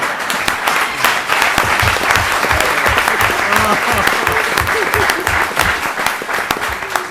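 An audience applauds Bishop Tindall at an award gathering, loud, full and sustained clapping close by, with some voices mixed into the ovation.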